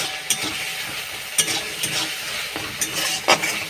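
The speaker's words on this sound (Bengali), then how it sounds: "টমেটো কুচি, লবণ, ভালো করে নেড়ে নেড়ে ভেজে নেব।" Chopped tomato with salt sizzles in a pan while a spoon scrapes and stirs it, the steady frying hiss broken by several distinct clinks and scrapes at irregular intervals, close up.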